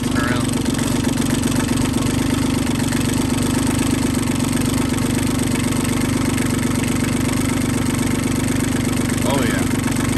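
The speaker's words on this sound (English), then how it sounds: "Cold start on old diesel. It's loping a little bit." Old diesel tractor engine idling after a cold start, a steady low rumble with a slightly loping rhythm running loud and close throughout, with faint voices talking over it.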